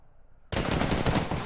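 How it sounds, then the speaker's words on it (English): Rapid automatic gunfire from a shooter video game bursts in suddenly after a moment of near silence. It stays loud and dense, a continuous rattle of close shots to the end. "I'm getting shot at right now."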